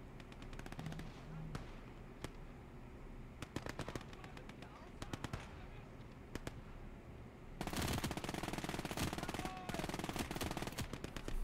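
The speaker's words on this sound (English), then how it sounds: "Using the MG42 here." An MG42 machine gun fires in the World War II game Gates of Hell Ostfront, rattling in rapid bursts over a battlefield din, then swelling into one long, louder sustained stream of fire near the end; faint voices sit underneath.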